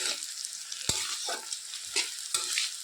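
Capsicum frying in ghee for chilli fried rice, a close, steady sizzle punctuated by a few sharp scrapes and stirs of the spatula, with no talk.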